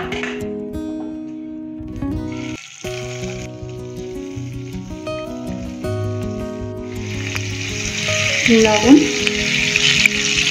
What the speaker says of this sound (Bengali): অল্প একটু সাদা তেল আর ঘিতে প্রথমে পনিরটা ভেজে নেব, লবণ আর লঙ্কার গুঁড়ো দিয়ে।